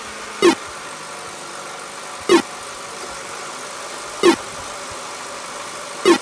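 A steady, mid-pitched car engine hum from a Python-made car game drones on evenly, with four short identical blips repeating at regular intervals over it, like synthetic game sounds.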